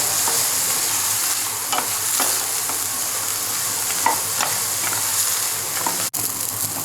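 Turkey berries and four medium chopped tomatoes sauté together in a pan for sundakkai kuzhambu, a steady close hiss of frying with soft intermittent scrapes of stirring and one sharp knock near the end.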